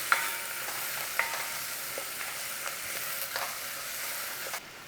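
Onion frying in a pan, a close, even hiss of sizzling with a few light taps of a utensil, stopping abruptly at the end.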